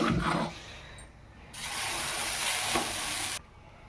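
Dosa batter for Guntur karam dosa hisses on a hot pan, with a brief scrape first and then a bright, steady sizzle lasting a couple of seconds, close and clear, without talk.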